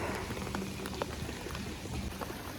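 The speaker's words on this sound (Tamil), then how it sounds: "மழை தான் திடீர்னு வந்துச்சுங்க மழை" Sudden heavy rain pours down in an Indian town, a dense steady hiss and patter of drops on surfaces, close and continuous with no speech.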